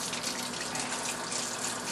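Steady, continuous hiss and splash of a kitchen tap running while someone washes their hands, close and even throughout with no talking.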